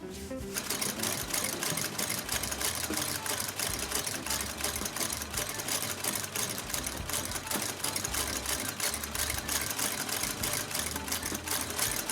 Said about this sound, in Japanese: それではこちらのミシンで縫っていきたいと思います。